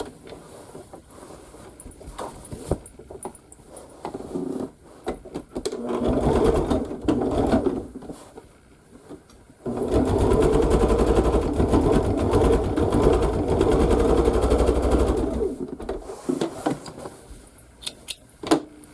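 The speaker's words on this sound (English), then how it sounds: "I've got to finish stitching it to my bag" Sewing machine stitching a quilted orphan block onto a spring bag, running in two bursts, a shorter one early and a longer steady run in the middle, close and fairly loud with brief pauses and handling noise between.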